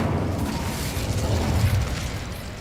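Incendio fire spell cast in Hogwarts Legacy, a steady roaring whoosh of flame with a low rumbling burst, moderately loud and continuous throughout.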